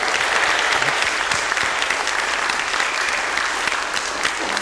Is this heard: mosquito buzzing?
no